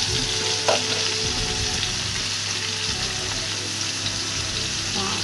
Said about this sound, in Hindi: हम इसे ढक के फ्राई करेंगे